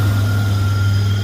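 A Buick Turbo Regal Grand National engine idling after fuel pressure adjustment: a close, loud, steady low hum with a strong even drone and no change in pitch.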